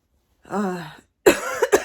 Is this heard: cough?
yes